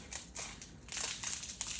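A plastic craft supply package is cut open up close, with rustling and crinkling at first, then a louder burst of crackling plastic as the cut goes through.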